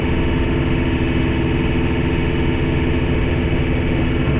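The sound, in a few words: tractor engine revving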